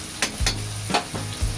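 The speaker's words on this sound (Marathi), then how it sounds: "चिकन खिमा टाकणार आहोत. परतून घ्यायचं आहे." Minced chicken keema sizzles in a hot pan while a spoon stirs it, scraping four or five times against the pan over a steady frying hiss.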